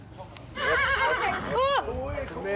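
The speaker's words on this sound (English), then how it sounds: "Do you not see this horse is going mad?" An agitated horse at an Irish Travellers' gathering gives a loud, close whinny with a sharp rising and falling neigh, while hooves clip-clop underneath and people talk nearby.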